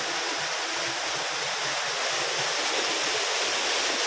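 Water gushes from two running motor pumps into a farm field, a steady, close, broadband rush that stays even throughout with no voices.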